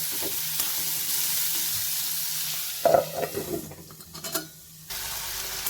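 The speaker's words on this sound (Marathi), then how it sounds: "आधेमध्ये हलवत एक तीन ते चार मिनिट आपण हा मुळा शिजवून घेऊया" Gentle sizzling of radish sautéing in a pan with a few scraping stirs partway through, steady and close, no voices.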